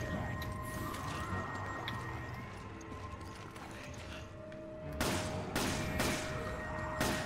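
Gunfire in Resident Evil 5: several sharp, fairly loud shots ring out in a quick cluster toward the end, following a stretch of mechanical game noise.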